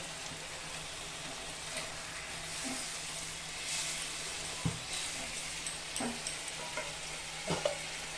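Koi fish frying in oil with a little water in a pan, a steady soft sizzle with a few sharp clinks and scrapes of a utensil scattered through, fairly quiet.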